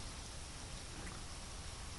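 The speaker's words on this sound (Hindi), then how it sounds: "आगरा में सुबह से लगातार बारिश का सिलसिला जारी है" Continuous morning rain falls over Agra, a soft, even, steady hiss with no breaks or distinct drops, faint and unbroken throughout.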